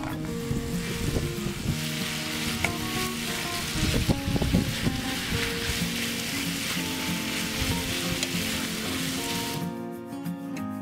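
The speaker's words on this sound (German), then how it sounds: "Wir müssen jetzt unsere geschnitzeltes nach Gyrosart scharf anbraten." Gyros-style sliced meat searing hard on a gas grill outdoors, a loud continuous sizzle with crackling and spitting that cuts off abruptly near the end.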